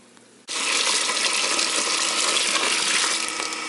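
Water poured into a container of organic apples for apple wine starts abruptly after a brief quiet moment, then runs as a steady, close gushing splash.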